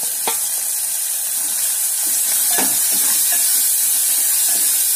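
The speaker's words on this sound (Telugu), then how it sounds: "ఆనియన్ కొంచెం ఉడికిన తర్వాత ఒక 7-8 వెల్లుల్లి వేసుకోవాలండి." Onion and crushed garlic fry in a pan with a steady loud sizzle and hiss, broken by a few brief utensil knocks and stirring scrapes, close up and with no talking.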